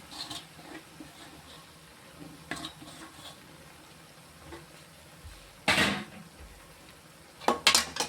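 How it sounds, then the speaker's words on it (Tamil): Idli upma with egg gravy is stirred in a pan, quiet background with scattered spatula taps and a few sharp, louder metal scrapes and clanks near the end. "இப்போ நம்ம வந்து இது எல்லாத்தையும் ஒன்று சேர்கிற மாதிரி கிண்டி விடணும்"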